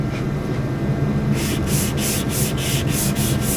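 Primer guide coat being hand sanded with 320-grit sandpaper over body filler: a quiet low hum gives way to close, rhythmic rasping strokes, about eight back-and-forth passes at an even pace.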